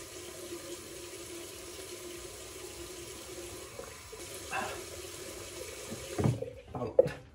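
Tap water runs steadily into a sink during a morning face-washing routine, a continuous close splashing stream that carries on alone, with a few louder splashes and handling knocks near the end.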